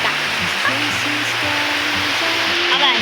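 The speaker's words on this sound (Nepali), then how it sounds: "अनि पानी यति बेसी पर्यो" Heavy rain pours down in the hills of Khotang, Nepal, making a dense, continuous rushing wash close to the microphone, with faint tonal voice-like sounds threaded underneath.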